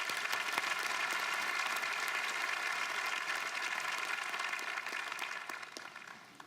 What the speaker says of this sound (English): join me in applauding these young people on their outstanding achievements